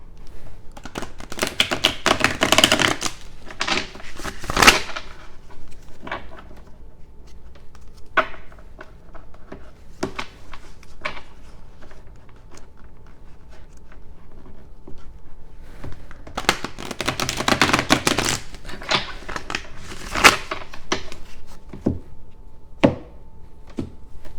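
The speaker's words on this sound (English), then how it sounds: "I'm going to give them a quick shuffle." A deck of oracle cards is shuffled in two crisp bursts of rapid riffling and snapping, close up, separated by scattered soft taps and handling sounds.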